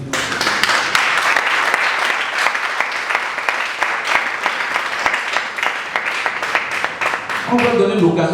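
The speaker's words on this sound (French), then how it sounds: "C'est pourquoi je voulais vous demander d'applaudir le RFLD." A seated audience at a talk on nonviolent communication and conflict resolution claps steadily and loudly throughout, a dense wash of hand claps, with a voice briefly rising over the applause near the end.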